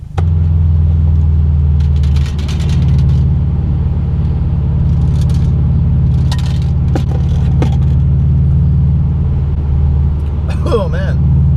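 Engine of a 2014 Subaru WRX rumbles loudly and steadily throughout, with a strong low drone and faint higher mechanical noise; a voice briefly talks near the end.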